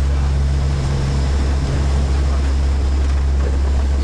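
Steady, loud roaring drone with a deep low hum inside the cabin of the NOAA Hurricane Hunter plane Miss Piggy flying through Hurricane Milton's turbulence, with no voices.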